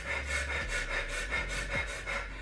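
Rapid short, quick breaths in a breathing exercise for quitting smoking: about eight evenly paced breathy puffs in quick rhythm, close and fairly soft, with no speech.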